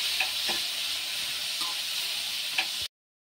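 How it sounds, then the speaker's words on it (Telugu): Tomato fries in hot oil with onion and green chilli, a steady close sizzle with a few soft stirring taps, stopping abruptly near the end. "ఇంక ఈ టమోటా కూడా ఫ్రై అవనివ్వాలి"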